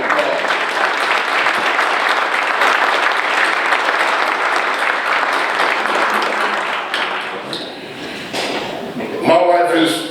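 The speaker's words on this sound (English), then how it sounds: "Give her another round of applause." An audience at a county address applauds in a dense, steady wave for about seven seconds, then the clapping fades and a voice speaks over a few scattered claps.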